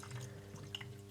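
Engine oil glugs gently from a bottle into the filler of a BMW E60's engine, a faint, steady trickle with a low hum beneath.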